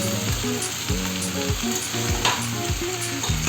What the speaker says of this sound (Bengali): ভেন্ডিগুলোকে দিয়ে অল্প 2-1 মিনিট নাড়াচাড়া করে কিছু সময়ের জন্য রেখে দেব।